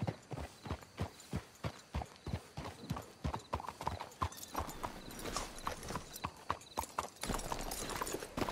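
Steady clip-clop of horse hooves walking at an even pace in a video game, close by, with a brief whinny and faint ambient noise underneath.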